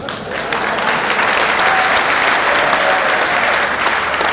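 A crowd applauds at a Hindi patriotic poetry recital in Palwal, with dense, steady clapping that fills the whole stretch at a loud, even level without letting up.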